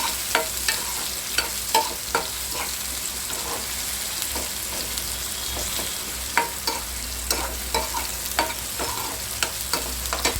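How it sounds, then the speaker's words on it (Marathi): Tomato sizzles in a pan with roasted garlic while a spatula repeatedly scrapes and stirs. A steady, fairly quiet broadband sizzle runs under sharp, irregular clicks from the utensil, with no talking. "टोमॅटो भाजत असतानाच आपला जो लाल मसाला आहे तो आपण टाकत आहोत"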